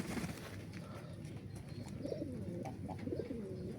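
Caged pigeons coo in low, soft, rolling calls that overlap continuously, close by, with no talking.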